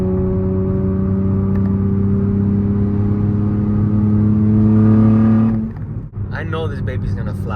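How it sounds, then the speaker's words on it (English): A Nissan Z with upgraded turbos hums at a steady low, tonal engine note for several seconds, then cuts to a quieter whir, heard close from inside the car. "Can you hear the turbos, guys?"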